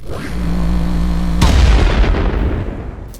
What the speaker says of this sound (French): À la phase de tir, le Dread lâche encore une fois tout ce qu'il a, 3 tirs en fusion